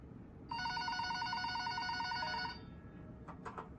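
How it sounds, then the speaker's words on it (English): A telephone on a store counter rings with a steady electronic bell tone for about two seconds, clear and fairly close, then stops, leaving a quiet background with a few faint clicks. "the phone on the counter rang."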